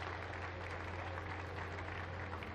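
Applause from a crowd at a Lancashire versus Yorkshire County Championship cricket match, faint and distant, a soft continuous patter of clapping over a low hum.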